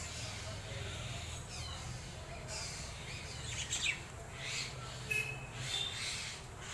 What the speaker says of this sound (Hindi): घर में चिड़िया रहने से आपको बहुत मज़ा भी आएगा